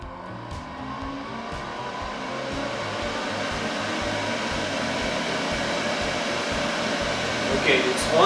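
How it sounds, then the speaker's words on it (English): A turbine blower runs at a cryptocurrency mining farm, giving a steady, loud whooshing roar that builds slightly over several seconds, close by, with no voices. "Let's first switch on the turbine here."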